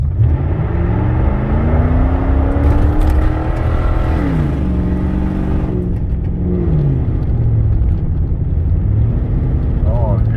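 A 2004 Toyota Tundra with a 4.7 V8, suffering an exhaust leak and misfire, accelerates hard from a standstill, its loud engine note rising and shifting through gears with a rough, raspy roar.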